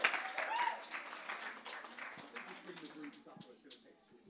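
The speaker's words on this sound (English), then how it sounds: "Give a clap for Jermaine." Moderate audience clapping at a church creative service after a spoken word piece, strongest at the start and fading out over a few seconds, with a cheer and some voices mixed in.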